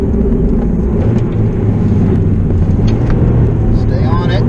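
A Toyota SW20 MR2 G-Limited's engine drones loudly from inside the cabin through a hairpin S-turn, a heavy low rumble with slight dips and rises as gears change.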